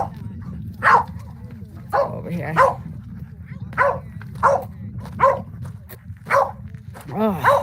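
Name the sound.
dog barking in video game Stronghold Kingdoms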